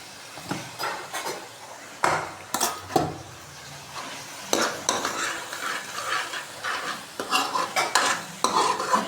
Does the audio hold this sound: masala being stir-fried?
yes